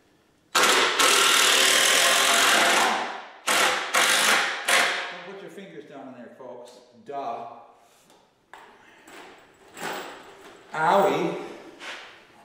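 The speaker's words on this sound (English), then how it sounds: "So we're just gonna pull this guy together with a couple of screws." A power driver runs screws in to join workshop parts, several loud whirring bursts of a few seconds each, close by, with short pauses and some clattering between them.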